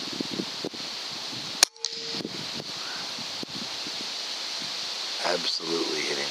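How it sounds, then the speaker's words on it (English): Benjamin Armada .22 air rifle fired once at a 4x4 wooden board outdoors, a single sharp close crack with a quick thud, amid wind and rustling, with someone talking quietly around it. "I'm just going to shoot at this board, this 4x4, just to confirm."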